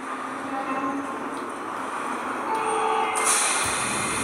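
An electric train bound for Izumi-Chuo idles at a Japanese station platform with a steady hum and hiss, soft tonal whines, and a sharp burst of air release near the end.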